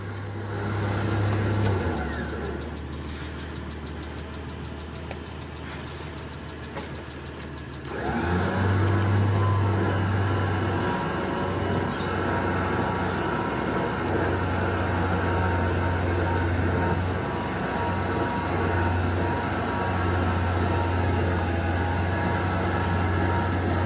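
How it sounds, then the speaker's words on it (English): A winch hauls a trailer up into a workshop, with a vehicle engine running nearby: a steady, loud mechanical drone whose low hum shifts in pitch as the load changes. It lasts throughout, with no talking. "first use to the winch, trying to pull my trailer up into Kieran's workshop"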